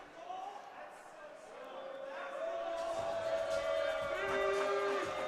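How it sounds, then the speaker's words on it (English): A packed crowd at a college ice hockey game at Lakeland Ice Arena boos the referee, a sustained rising jeer mixed with arena noise and commentators talking. "they are out in bunches as they're booing the ref there"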